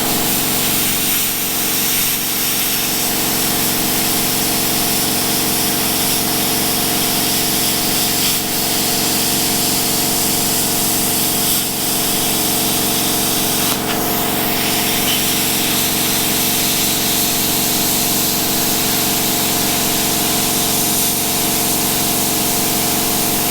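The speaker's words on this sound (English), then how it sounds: "I'm going to start the compressor up, get a little bit noisy, we'll wait for the compressor to build up pressure" An air compressor runs and builds pressure in a workshop, giving a loud, steady motor drone with a constant tonal hum that holds unbroken throughout, with no talking.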